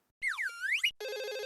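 A telephone rings in a home where someone is chopping vegetables and ironing. An electronic warbling ring is followed by a steady buzzing tone, both loud and alone, with no talk over them.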